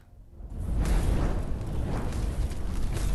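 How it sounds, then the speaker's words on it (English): Fireworks exploding and a fire blazing in the video game Arknights, heard as a dense, continuous roaring rumble with repeated bursts and crackles that build after a quiet start and stay loud. "The exploding fireworks draws a gawking crowd"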